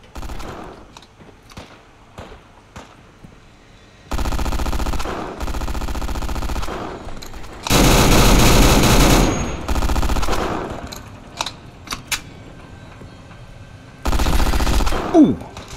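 Machine-gun fire from the video game Fallout 4 comes in several loud, sustained bursts of a few seconds each, separated by quieter stretches with faint clicks and footsteps.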